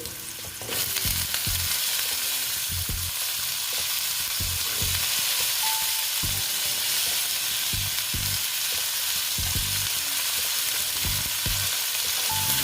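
Flat beans frying with potato, bori lentil dumplings and bottle gourd greens for a vegetarian chorchori: a loud, continuous close sizzle throughout, punctuated by regular knocks and scrapes of stirring, with no voices.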